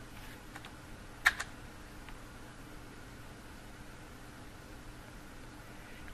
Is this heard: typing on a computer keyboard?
yes